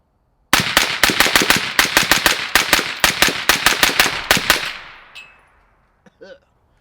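Twenty rounds of 5.56 rifle fire through a Black Anchor Tactical Nautilus suppressor on an untuned 16-inch gun: a rapid, evenly paced string of loud, close suppressed shots, then a fading tail and a couple of faint clinks.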